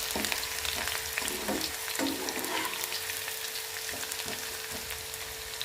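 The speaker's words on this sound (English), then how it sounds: "Then chopped small onion fry." Chopped small onions frying in oil for a Kerala-style ginger curry, a steady close sizzle with occasional stirring scrapes, no talking.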